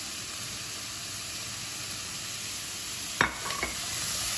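Turmeric and curry powder sizzle steadily in a pan as a continuous hiss, with a couple of brief stirring scrapes near the end.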